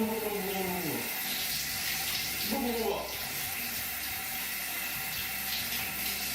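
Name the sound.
shower water running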